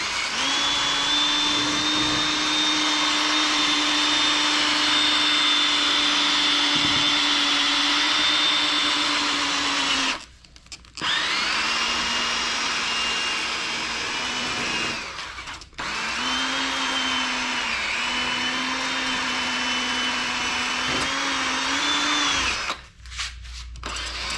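Power sander whining steadily as it wet-sands a clear car headlight with 1200 grit, a loud continuous motor drone with a few short pauses where the tool stops and restarts.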